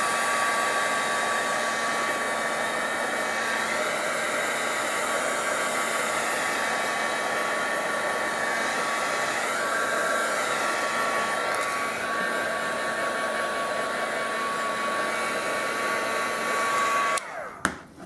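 A craft heat tool blowing on a shimmer-coated altered heart clothespin embellishment, giving off a steady close whirring hum with airy hiss for most of the time before cutting off abruptly near the end, followed by a brief clunk.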